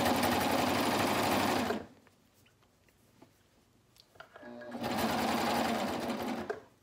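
A sewing machine stitches a knit neckband using a clear presser foot, running in a loud steady whir, then stopping for a few seconds of quiet with small clicks before starting again.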